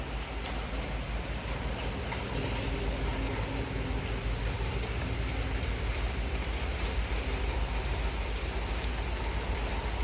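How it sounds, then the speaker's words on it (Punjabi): Heavy rain pours down steadily, a dense continuous hiss of drops hitting surfaces, with no break for the full stretch. "ਕਿੰਨਾ ਮੀਂਹ ਹੋ ਗਿਆ ਹੁਣ"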